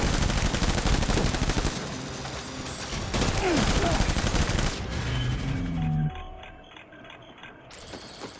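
Video-game gunfire in Death Stranding, with a dense, loud volley of shots that thins into scattered reports and mechanical clatter before fading near the end.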